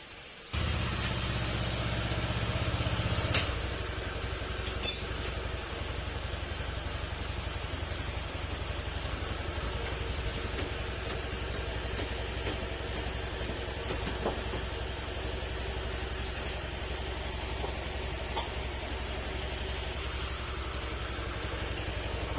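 A Honda Click 150 scooter engine idles steadily after an overhaul, running without its radiator fitted, a constant close mechanical hum that holds even for over twenty seconds with one brief knock early on.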